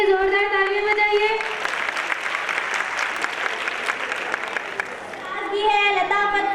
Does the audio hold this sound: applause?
yes